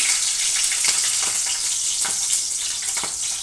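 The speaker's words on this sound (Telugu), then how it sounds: "ఆవాల జీలకర్ర వేస్తున్నాను అందులోకి కొంచెం పండుగైన మిర్చి ఒకటి వేసుకున్నాను" Mustard seeds and cumin with a green chilli sizzle in hot oil, a loud steady frying hiss with occasional crackles and stirring scrapes.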